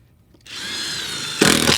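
A power drill drives a screw into solid deck wood during a deck repair, a steady whining buzz that starts after a brief pause and swells louder and rougher near the end as the screw bites in, close and alone.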